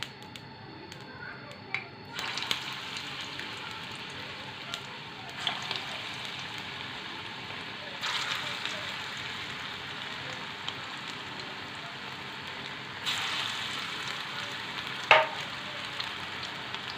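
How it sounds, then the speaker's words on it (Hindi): Lauki kofte frying in hot ghee, a continuous soft sizzle and crackle with occasional brighter pops as the pieces go in, close and moderately quiet. "घी को हमने तेज़ गरम कर लिए। अब हम इसमें कोफ्ते डालेंगे।"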